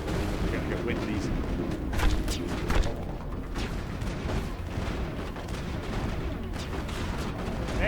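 Gunfire and explosive booms in the Mass Effect video game, a dense, loud barrage of shots and blasts filling the whole stretch, with possible voices mixed in.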